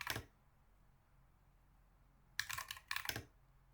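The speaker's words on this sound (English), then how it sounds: "now you type in this command" Sparse keystrokes on a computer keyboard while entering a command: one short burst at the start, a long quiet gap, then two quick clusters of taps, close and crisp.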